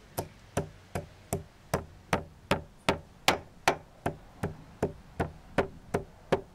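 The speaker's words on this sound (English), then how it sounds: "First, we grind in the mortar the spices." Nutmeg, cinnamon and cloves are ground in a mortar for a medieval Tuscan quail stew, giving a steady series of about seventeen sharp, evenly spaced pestle strikes, close and fairly loud, with no talking.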